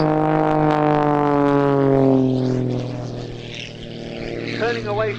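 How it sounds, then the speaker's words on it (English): Rich Goodwin's Pitts muscle biplane flying a knife-edge pass at an air show, a loud propeller drone with strong harmonics that sweeps down in pitch as it passes and fades, with a voice talking over it. "Rich Goodwin in his muscle biplane, his pits, and here's another knife edge pass."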